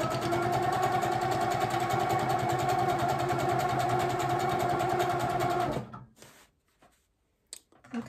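An HQ quilting machine stitching ice-dyed fabric runs as a loud, steady, rapid mechanical hum with a fine repeating pulse, then stops abruptly near the end, leaving a few faint handling clicks.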